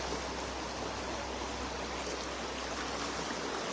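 Floodwater rushing through Ban Na Yang village in Vientiane, Laos, a loud, steady, broadband roar of flowing water that holds constant throughout with no voices.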